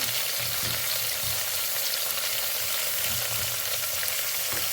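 Onion, garlic and tomato frying in a hot pan, a dense, loud, continuous sizzle with faint stirring underneath, close up and without any voices.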